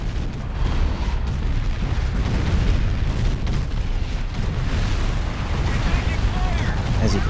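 Continuous heavy artillery barrage rumbling and booming without pause in a real-time strategy game, units force firing blindly into fog of war, dense overlapping blasts at steady loudness.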